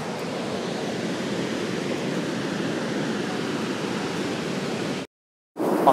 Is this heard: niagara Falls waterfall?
yes